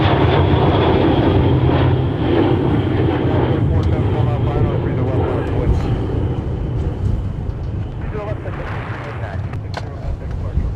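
A Prime Air jet taxis at Minneapolis–Saint Paul airport, a loud steady engine roar mixed with wind buffeting, slowly easing off while a person talks over it.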